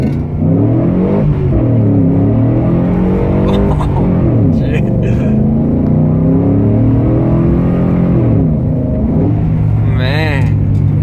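A new pickup truck's engine revs hard on pavement, a loud, sustained roar with rising and falling pitch sweeps, joined late by a brief squeal, while people talk over it.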